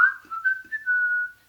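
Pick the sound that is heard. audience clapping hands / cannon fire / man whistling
man whistling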